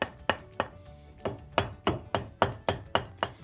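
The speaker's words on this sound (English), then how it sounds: "take a soft hammer, in this case it's a wooden hammer that we made, and tap it into place." Wooden soft hammer tapping a 3-inch Grizzly T27661 milling vise into place on a mill table, about ten crisp, evenly spaced knocks in a steady rhythm, close and clear with no talking.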